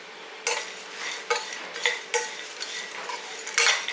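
Sathu maavu ingredients lightly roasted in a hot pan, with a series of dry scraping and stirring strokes, spoon on metal, coming in irregular bursts up close and no talking.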